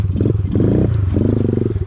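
A Kawasaki KLX110 pit bike engine runs up close, a loud, choppy, pulsing putter with rapid firing beats and slight revving across the short stretch.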